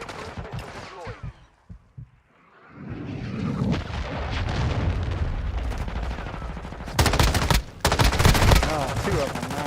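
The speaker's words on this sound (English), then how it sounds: "Friendly cruise missile deployed." A video game firefight in which a friendly cruise missile strikes, with dense bursts of loud gunfire and heavy booming impacts that grow into a sustained barrage, preceded by a brief quieter lull.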